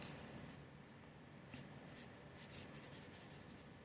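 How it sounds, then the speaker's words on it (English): Soft, steady scratchy strokes of marker tips shading on paper, with short bursts of rubbing repeated through the clip, close and quiet, no talking. "using the super tips just to put a little bit of shadow onto her face."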